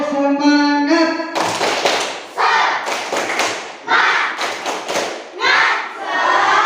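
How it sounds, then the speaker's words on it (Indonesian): A class performing tepuk semangat, a rhythmic spirit clap at an Islamic studies lesson, with loud patterned clapping bursts after a sung opening, the claps sharp and close. "Tepuk semangat."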